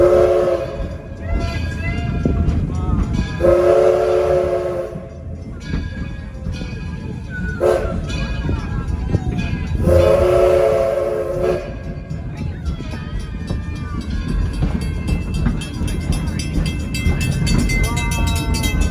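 A loud ride aboard an Edison train: a steady rumble of wheels and cars runs throughout, broken by two long, sustained horn blasts near the middle, with some voice sounds under the noise.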